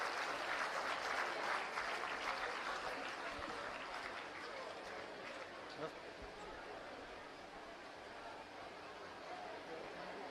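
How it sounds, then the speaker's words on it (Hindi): An audience at a new Delhi government school inauguration claps to welcome the secretary, a dense wash of applause that is loudest at the start and slowly thins, with faint crowd chatter underneath. "एक बार जोरदार तालियों से आइए हम सर का स्वागत करें।"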